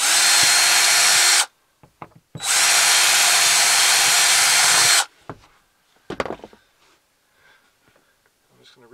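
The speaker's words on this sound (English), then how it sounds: "Okay, I got an eighth inch drill bit." A power drill with an eighth-inch bit bores into a Tahoe/Yukon/Suburban rear liftgate panel in two loud, steady whirring bursts split by a short pause, followed by quiet clicks and handling noises.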